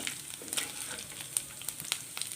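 Anchovies fry in hot oil with a soft, steady sizzle marked by small crackles and pops, close by and fairly quiet.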